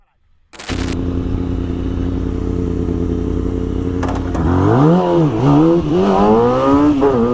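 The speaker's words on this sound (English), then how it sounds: "watch as police attempt to stop motorcycle and stunt bike riders, only for the sport bikes to speed off without hesitation" Sport motorcycles race away from police, their engines droning steadily then revving hard with rising and falling pitch sweeps as the bikes accelerate. The engines are loud and close, and the noise is continuous.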